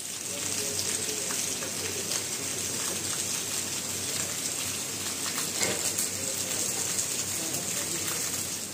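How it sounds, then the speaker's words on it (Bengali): Rain falls steadily outside at night at an old tea-estate heritage stay in Alipurduar, North Bengal, making an even, dense hiss with scattered drops and no clear voices. "রাত বাড়ার সাথে সাথে বাইরে বৃষ্টির আওয়াজ শুনতেও বেশ ভালোই লাগছিল।"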